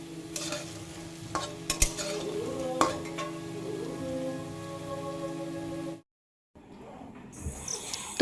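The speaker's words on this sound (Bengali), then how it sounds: "বড়াগুলো হালকা হালকা লাল হবে, তো সেইভাবে ভেজে নিতে হবে।" Taro leaf fritters fry in oil along with two chillies, giving a soft, steady sizzle close by with a few sharp clicks and taps of a utensil. The sound cuts out briefly near the end, then faint handling noise follows.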